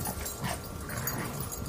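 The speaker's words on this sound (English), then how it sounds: "Dogs are going crazy." Three dogs playing tug of war in an urban vegetable garden, with dense, continuous yips, whimpers and barks close by, busy and overlapping throughout.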